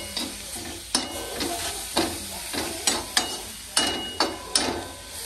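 A tomato roasts over a high flame on a wood-fired village stove, giving a steady close hiss broken by sharp knocks and crackles about every half second to second, with no voices.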